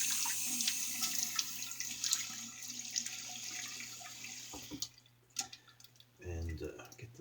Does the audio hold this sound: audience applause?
no